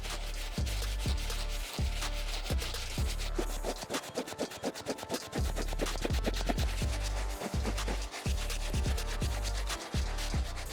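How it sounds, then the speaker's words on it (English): A soft bristle brush scrubs the mixed mesh, leather and suede uppers of worn Nike Dunk sneakers with a steady back-and-forth rubbing, close and continuous over rhythmic background music. "As always, I'm gonna start with the Soft Bristle Brush on the uppers"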